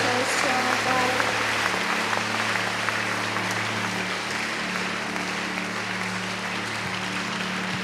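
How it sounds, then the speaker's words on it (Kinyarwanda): Sustained applause from a church congregation at a service, steady clapping filling the room throughout with some voices mixed in. "tuyongera amashyi menshi cyane tuyishimira."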